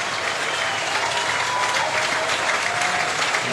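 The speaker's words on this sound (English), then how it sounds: "Very generous applause." A rugby crowd at a Shute Shield semifinal between Eastwood and Randwick applauds steadily, with a dense, even wash of clapping holding throughout at a moderate distance.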